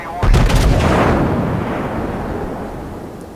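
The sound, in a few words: warship gunfire in video game World of Warships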